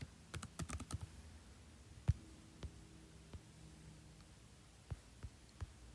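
Keys tap on a computer keyboard in short scattered bursts, a quick cluster of clicks followed by a few isolated taps, faint and close in a quiet room.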